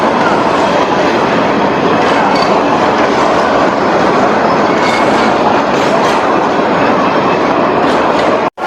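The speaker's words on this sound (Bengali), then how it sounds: "এই যে দেখেন ট্রেন যাচ্ছে টঙ্গী দিয়ে," A long direct train passing through Tongi station, loud and close, with continuous rumbling wheels and clickety-clack over the rails throughout, ending abruptly.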